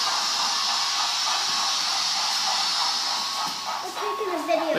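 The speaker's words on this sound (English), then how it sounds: "Letting some steam out." A model 0-6-0 steam locomotive, off its track, vents a loud, continuous hiss of steam that lasts throughout, with light rattling near the end.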